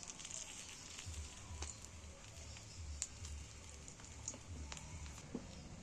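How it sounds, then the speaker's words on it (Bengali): Stuffed papad frying in a small amount of oil in a kadai, a soft steady sizzle with faint crackles throughout, fairly quiet and close. "এবার এই পুর ভরা পাঁপড়টাকে আমি আস্তে আস্তে তেলের মধ্যে দিয়ে দিচ্ছি"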